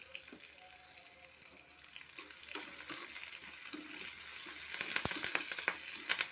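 Curry leaves and okra frying in hot oil for a tempering, a steady close sizzle with crackling pops and occasional stirring scrapes that grow louder toward the end.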